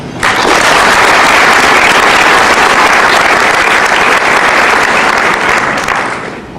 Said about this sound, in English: you guys particularly are just great, and you deserve a round of applause